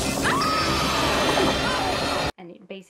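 Glass of a phone box in a horror film shattering, heard as a loud dense crash with ringing debris for about two seconds before cutting off, followed by faint talking.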